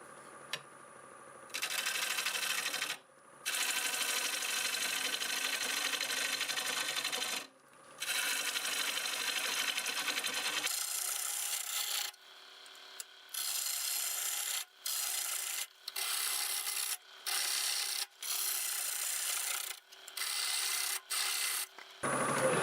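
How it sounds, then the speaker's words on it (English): Black walnut spins on a wood lathe at 760 RPM while a half-inch bowl gouge cuts it in repeated scraping, hissing passes broken by short pauses, close and moderately loud. "Go back to the 1/2 inch bowl gouge. We'll get it flat, and then we'll start hollowing it out."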